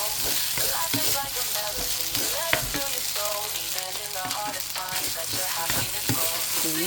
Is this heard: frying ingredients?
yes